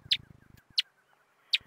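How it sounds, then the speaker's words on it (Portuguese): A black-capped gnatcatcher (balança-rabo-de-chapéu-preto) sings three short, sharp high chirps at evenly spaced intervals, clear and close, with faint low background noise between them. "Ó, balança rabo de chapéu preto, coisa linda."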